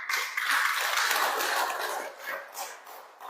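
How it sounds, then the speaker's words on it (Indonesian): A church congregation applauds during a pastor's sermon, a dense, slightly distant wash of clapping that swells at the start and gradually thins out. "Tepuk tangan dulu."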